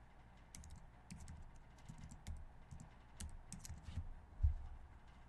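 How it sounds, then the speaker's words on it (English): Steady, uneven clatter of keys on a computer keyboard, close by, with irregular bursts of quick taps and no voices. "talking and typing at the same time is even harder"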